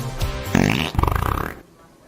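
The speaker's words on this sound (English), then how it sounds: "you're ready for a day of farting your way to freshness" A comic fart sound effect from a flatulence fragrance pad ad: one loud, close, drawn-out sputtering blast with a fast rattling flutter that tapers off over about a second, with no talk.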